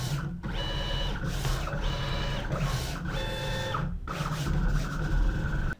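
GCC Expert 24 vinyl cutter cutting silver glitter vinyl: repeated close, steady mechanical whirring passes with tonal motor whines, broken by brief pauses between strokes, loud and alone without talk.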